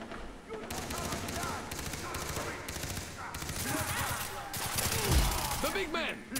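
Gunfire in the co-op PC shooter Far Cry 3: a dense, continuous stream of rapid shots and automatic bursts, layered with clattering game noise throughout.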